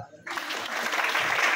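An audience at an RCM business meeting breaks into applause, steady, dense clapping that starts abruptly after a brief quiet moment and holds at an even, fairly loud level.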